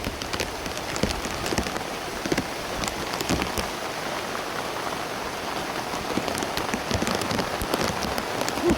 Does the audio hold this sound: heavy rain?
yes